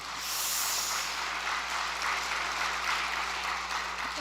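Sustained applause of encouragement from a large congregation at an overnight devotional gathering, a broad, even wash of clapping at moderate loudness over a low mains hum.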